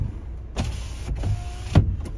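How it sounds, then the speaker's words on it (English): Electric windows on a 2021 Vauxhall Vivaro 2.0 TD van whir close by: one motor hum of just over a second, a brief break, then it closes with a soft thud. "Electric windows."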